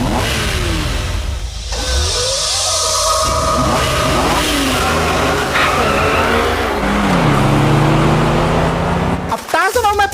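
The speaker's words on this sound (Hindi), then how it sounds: "टार्जन और मैं पूरी रफ्तार से निकल पड़े थे हम किडनैपर्स को पकड़ने के लिए" A car in a video game accelerates hard at full speed, its engine revving loudly with rising pitch sweeps and tire squeal throughout, ending in an abrupt skid or crash noise.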